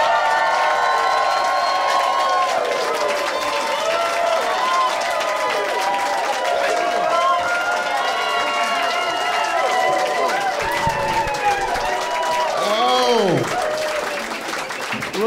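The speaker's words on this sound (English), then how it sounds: "please give a huge round of applause for Kortney Shane Williams." Comedy special audience in Seattle applauding and cheering a stand-up comedian as he takes the stage, a dense, loud wash of clapping with shouts and whoops running throughout, thinning slightly near the end.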